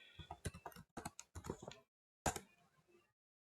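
Keys clack on a computer keyboard as a command is entered in an Ubuntu Linux terminal: a quick burst of close, crisp keystrokes, a short pause, then one last firm keypress, with no talking.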